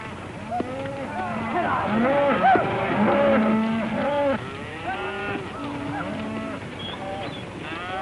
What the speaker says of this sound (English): Mighty fine cattle, boss.